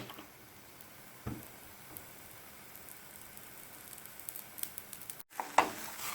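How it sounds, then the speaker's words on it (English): Vegetable adai lentil pancake frying in sesame oil on a hot pan gives a soft, steady sizzle, faint and close, with a couple of sharper crackles and clicks toward the end. "My vegetable adai is getting ready. I'm going to add some sesame oil."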